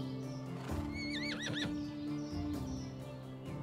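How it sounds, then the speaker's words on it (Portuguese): A horse or donkey in the medieval life-sim game Medieval Dynasty neighs loudly with a wavering whinny, accompanied by hoof clip-clops and layered over steady background game music. "Vamos chamar o cavalo. Ou o burro"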